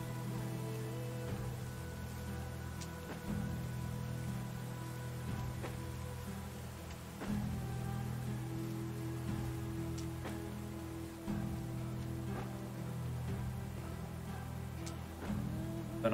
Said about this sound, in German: In der Nacht hat es angefangen zu regnen. Jetzt regnet es hier weiter.